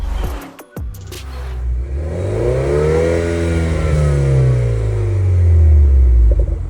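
A BMW 328 engine revs up, its pitch rising and then falling in a long sweep, with a deep exhaust rumble building loudly near the end.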